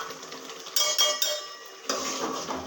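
Masala and chickpeas are stirred in a cooking pan with a metal spoon, producing close, repeated scraping and clinking of utensil against metal in uneven strokes.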